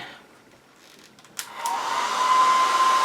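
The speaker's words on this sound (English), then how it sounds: "a little blow dryer here, and I've got it on low, low, low, low" A small blow dryer on its lowest setting, aimed at a crayon to melt it, comes on after a quiet start with a click and then blows as a steady, close, whooshing hum.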